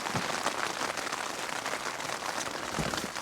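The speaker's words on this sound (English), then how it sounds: "It's just started raining." Rain begins falling on a camp on Dartmoor, a steady dense patter of drops hitting the tent and surroundings, close and even throughout with no voices.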